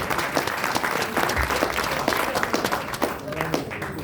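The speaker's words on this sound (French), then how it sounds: "Acclamez pour lui." An audience at a university philosophy faculty event claps in sustained applause for a professor, with a voice speaking over the crowd.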